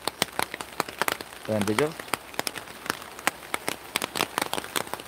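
Heavy rain drums on a greenhouse roof in a dense, steady patter of sharp drops, with a short spoken question partway through.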